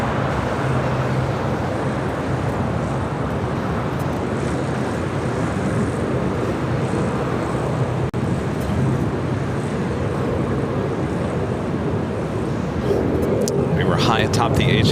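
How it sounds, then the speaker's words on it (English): An American Airlines Boeing 777 arriving at LAX, a continuous loud low jet rumble mixed with traffic-like noise throughout, with a voice talking over it. "our next arrival is the American 777 Flight 137 coming in from London Heathrow"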